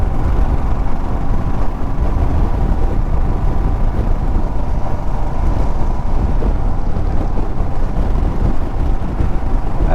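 Steady, loud wind rush buffets the microphone while riding a motorcycle on rural village roads near Kanakapura and Harohalli, a dense continuous roar with no pauses for the full ride.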